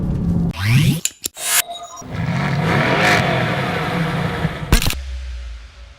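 A Mercedes-AMG GT S with a 4-liter turbocharged V8 revs up, its rising engine note broken by sharp bursts before a sustained, loud, close drone settles in.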